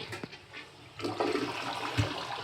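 A hotel shower at Home2 Suites by Hilton Ocean City Bayside, Maryland, is turned on: a few handling knocks, then water rushes and sprays steadily at close range.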